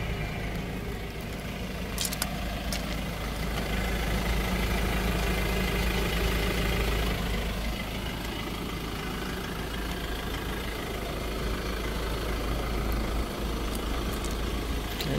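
A 2020 Mazda BT-50 automatic pickup idles close to its exhaust pipe, a steady low rumble that holds even throughout with a couple of faint brief ticks and no talk.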